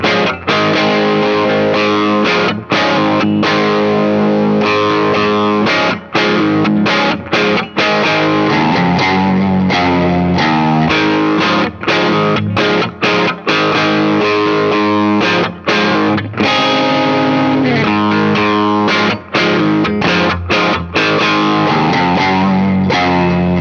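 A Gibson Les Paul electric guitar played through heavy distortion, loud and continuous, with dense chords and riffs that drop out for short gaps. No voice is heard.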